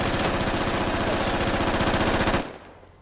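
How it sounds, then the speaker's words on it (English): Rapid, loud automatic gunfire rattles up close in the tactical shooter Squad, a continuous burst of shots that stops abruptly, leaving quiet ambient noise. "Aethel guns down Scrooby"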